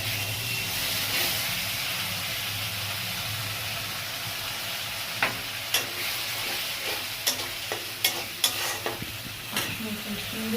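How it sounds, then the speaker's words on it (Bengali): Spices being stirred into grated onion frying in a pan for a tangra fish curry with potato and flat beans: a steady sizzle under a scraping spoon, with sharper clacks of the utensil against the pan in the second half. "পেঁয়াজটা তো গ্রেট করা, বেশি ভাজতে লাগবে না, ভাজা হয়ে গেছে। এবার এই মশলাটা আমি দিয়ে দেবো।"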